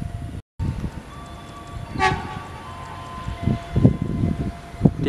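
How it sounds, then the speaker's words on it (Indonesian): An electric commuter train approaches Srowot station with a short horn toot, followed by low rumbling and clanking that grows louder as it nears. "Di jalur 1 masuk KRL dari Jogja tujuan Solo Malaman."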